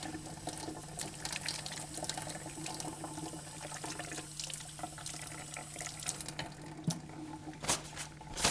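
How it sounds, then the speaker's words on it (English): Running tap water in a clinic sink during handwashing before a cardiovascular exam, a steady close splashing hiss with irregular spatters and small bursts as hands move under the stream, with no voices. "I'm going to wash my hands."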